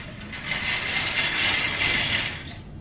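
A ratchet wrench loosening a shock absorber bolt, giving a steady run of fast, close clicking from the pawl for about two seconds with no talk over it.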